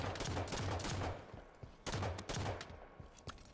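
Sniper rifle fire in Halo 5 during a 2v2 match, heard as a few sharp, loud shots in bursts with a gap between them, close and dense, with no talking during the shots.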